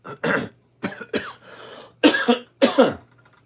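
A run of harsh, close coughs in short bursts, some in quick pairs, with a throat-clearing rasp between them.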